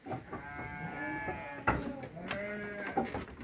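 Sheep bleat repeatedly in a sturdy wooden pen built for large, aggressive rams, several overlapping calls rising near and loud with a sharp knock partway through.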